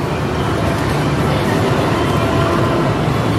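Zombie Snatcher arcade game playing a steady, loud rumbling train sound in a noisy Dave & Buster's arcade, continuous for several seconds with no talk.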